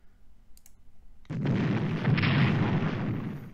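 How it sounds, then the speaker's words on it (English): Naval units and a battleship firing an attack in a WW2 strategy game: a click, then a sudden broad, sustained rumbling roar of artillery fire and explosions that swells and holds loud to the end, with no talk. "Also going to fire an attack with our naval units if I can."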